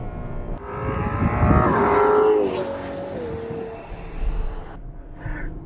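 A Ferrari 12Cilindri's V12 engine revs up and holds a rising, smooth multi-tone roar before easing off, heard from inside the cabin.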